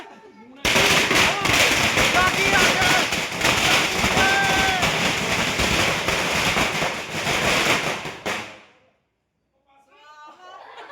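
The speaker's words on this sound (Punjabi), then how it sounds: "ਕੰਨ ਹੋ ਗਏ ਨੇ ਸਾਰਿਆਂ ਦੇ ਬੰਦ ਬੰਬ ਫੁੱਟਣ ਹੀ ਆ ਗਏ ਨੇ" Firecrackers and bombs bursting in a dense, loud, continuous barrage of crackling pops during an outdoor Dussehra celebration, lasting about eight seconds before stopping abruptly, followed by faint voices.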